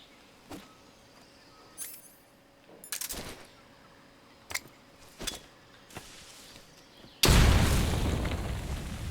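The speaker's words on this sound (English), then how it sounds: "Let's see what a grenade does." Grenade explosion in Metal Gear Solid 3 Delta Snake Eater: a few scattered clicks and footstep-like taps, then a sudden loud, close blast whose rumbling roar fades slowly over the last two seconds.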